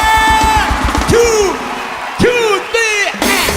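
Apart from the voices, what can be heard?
crowd cheering as a performer appears on stage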